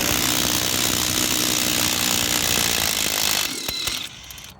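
A power tool with a 13 mm socket spins out a bolt on a Club Car golf cart, making a loud, dense, rattling buzz for a few seconds before it stops, leaving a couple of clicks.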